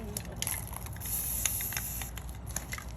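A short, hissing spray from an aerosol can, steady and fairly faint, with light crackling texture throughout.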